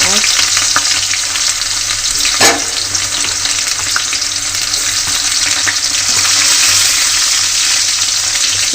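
Onions fry in hot oil with curry leaves and chillies, giving a loud, dense, unbroken sizzle close by, with one brief knock of a utensil partway through.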